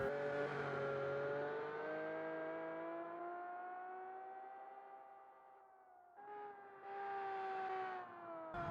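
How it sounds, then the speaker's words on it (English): Car engine in the Automation game revving high and holding near the rev limiter, a loud sustained harmonic whine that bounces slightly, drops briefly, then climbs again in bursts after an upshift. "Running into a limiter there"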